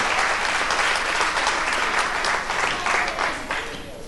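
A crowd applauds continuously, the clapping thick and even before tapering slightly toward the end.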